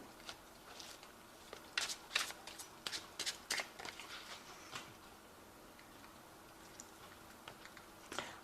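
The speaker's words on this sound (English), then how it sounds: "I have shuffled this deck" Tarot cards riffle and snap in quick bursts of crisp, papery clicks, close by and fairly quiet, then tapering off into a few scattered taps.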